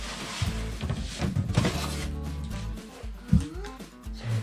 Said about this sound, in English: And then we slide the drawer bottom in.